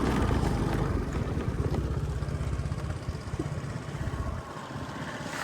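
Motorbike ride on a road near Kathmandu, with a steady mid-pitched engine drone and wind rumble running continuously throughout, fairly close and loud, with no talking.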